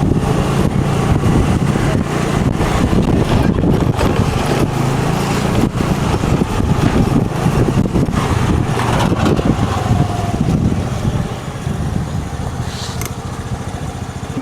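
A scooter rides home along a neighbourhood street, its engine a close, loud, steady drone mixed with wind rumble that eases slightly near the end.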